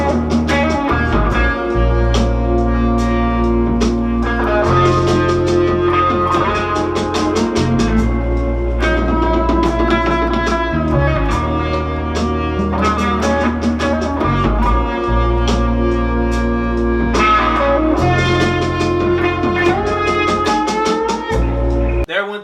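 Electric guitar solo run through a Guitar Rig cat filter preset with reverb plays busy, fast melodic lines over a steady bass and beat, loud and continuous with no talking.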